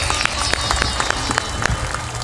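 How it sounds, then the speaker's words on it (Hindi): Energetic applause from a large audience at a satsang gathering in Supol, Bihar, continuous clapping with scattered sharper claps over a dense background of voices. "ताली बजा दो जोरदार"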